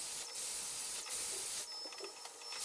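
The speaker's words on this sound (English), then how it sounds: "What's great about the Airstrait is because you're using air" A Dyson Airstrait hair straightener blows a steady, breathy rush of air while drying hair, a continuous close hiss with slight surges and dips in strength.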